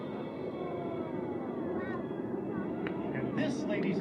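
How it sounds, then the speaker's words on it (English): Five Red Eagle display aircraft pitching up and away in a bomb burst break at an air show, their engines a steady distant roar with a faint whine rising near the end. "The 5 aircraft are going to pitch up and away in the bomb burst break"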